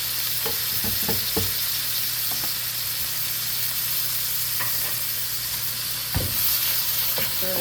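Beef stir fry with minced garlic sizzles steadily in a hot pan, a loud continuous hiss and crackle close up with a few stirring scrapes and clatters, no voices.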